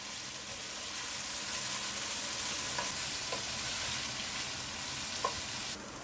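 Shallots, spring onions and garlic stir-frying with bacon in a pot make a loud, constant hiss of frying with a few soft clinks of stirring, and no voices.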